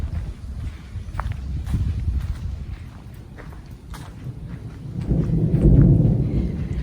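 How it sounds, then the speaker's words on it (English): Thunder rolls over a campsite at Koreshan State Park, a low, distant rumble with faint rustling around it that swells louder near the end before easing off. "The thunder sounds like it's getting a little further away, so that's good."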